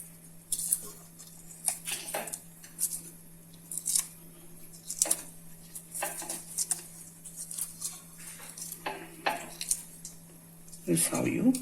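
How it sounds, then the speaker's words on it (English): Skin being peeled by hand off a roasted eggplant for North Indian baingan bharta, giving soft, irregular squishy and patting clicks scattered throughout, with faint kitchen handling noises and a louder clatter near the end. "This is how you peel it."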